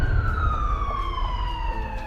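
Emergency siren sounding steadily with a continuous gliding wail, loud and near over low rumbling background noise, called to a boat gas explosion rescue scene where a man suffered serious burns.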